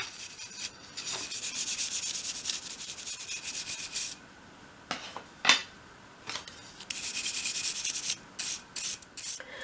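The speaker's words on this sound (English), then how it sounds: "just use a soft brush to remove the sanding dust" A soft brush sweeps sanding dust off small balsa wood dollhouse pieces, giving repeated close, scratchy rubbing strokes in bursts separated by short pauses.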